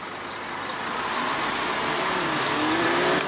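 Scania Enviro 500 bus pulling away at Blackburn bus station, its engine note swelling steadily as it accelerates, a smooth rising drone close by with no talk.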